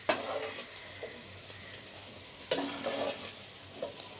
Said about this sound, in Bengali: আমার সয়াবিনটা ভাজা হয়ে গিয়েছে